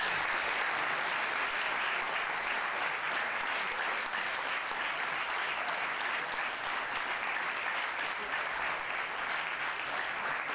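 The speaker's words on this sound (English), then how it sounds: "let's give another applause to Thomas." Sustained audience applause after a talk at a science-and-cocktails evening, a steady dense wash of many hands clapping for the whole stretch, fairly distant and even in level with no voices over it.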